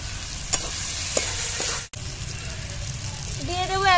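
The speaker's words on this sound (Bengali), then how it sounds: "জলটা দিয়ে মশলাটা ভালোভাবে কষে নেব।" Spice paste of cumin, coriander and Kashmiri red chilli powder with a splash of water frying for stingray curry, a dense sizzle with a few utensil clinks and a brief dropout, faint faucet-like tones near the end.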